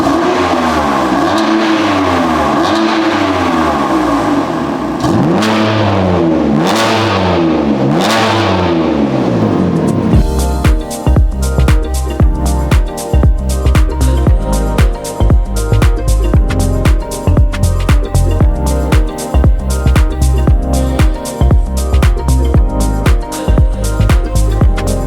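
A BMW G80 M3 with a Remus exhaust revs loudly up and down in several rising and falling sweeps, then breaks into a hard, pulsing burst of rapid throttle blips, close and loud.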